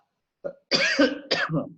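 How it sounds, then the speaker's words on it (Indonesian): A few short, throaty coughs close to the mic, separated by brief pauses, with no talking. "batuk."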